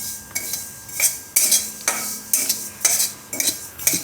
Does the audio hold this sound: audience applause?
no